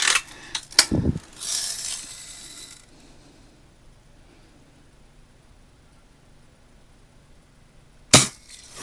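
A pink Daisy Red Ryder BB air rifle being cocked with a quick run of mechanical clicks and a metallic lever ratchet, then a quiet pause before a single sharp snap of a shot, no talking.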